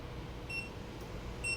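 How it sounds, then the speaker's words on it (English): A timer being set gives two short, faint electronic beeps spaced about a second apart over steady background hiss. "I'm gonna set my trusty timer on 10 minutes"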